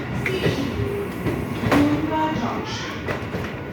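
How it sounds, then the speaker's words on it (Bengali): A train rolls into Bongaon Junction station, a steady rumble of wheels and carriages filling the platform, with voices talking over the noise throughout. "ওই যে ট্রেন ঢুকছে মাঝখানে এসে গেছে"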